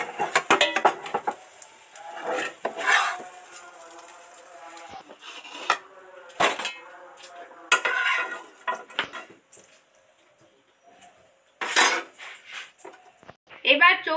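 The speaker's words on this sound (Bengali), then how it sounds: "এবার থালাতে উঠিয়ে নিচ্ছি।" Fried egg chili is lifted onto a plate, with metal utensils clinking and scraping against cookware in short bursts separated by quiet gaps; a few brief louder clatters stand out close by.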